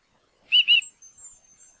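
A bird in the video game The Book of Unwritten Tales 2 gives a quick pair of bright, high chirps, followed by a faint thin trailing twitter, alone and clear against silence.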